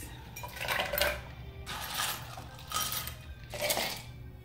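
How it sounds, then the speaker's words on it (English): Ice cubes tumble into a Pampered Chef cocktail shaker holding bourbon and maple syrup, making about four bright clattering bursts of clinks, close by and fairly quiet with no talking. "Now add your ice."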